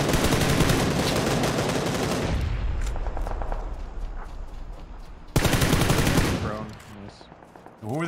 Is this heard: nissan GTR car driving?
no